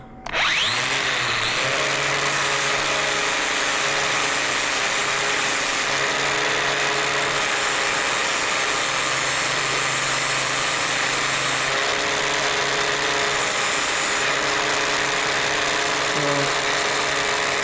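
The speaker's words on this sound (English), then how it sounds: "we've just got a flapper wheel on now, and we're just going to clean up these edges." A power tool fitted with a flap wheel grinds the edges of a homemade fishing-line knot puller, a loud continuous whining drone close by that wavers slightly in pitch as pressure changes, with no talk.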